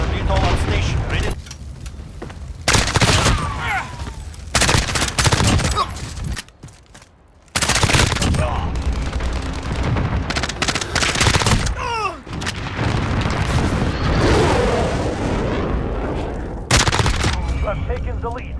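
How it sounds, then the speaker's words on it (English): Explosions and gunfire from a Call of Duty cluster strike, heard as repeated loud booming bursts and rapid shots spread across the scene, with brief lulls between blasts and game radio chatter mixed in. "Cluster strike away."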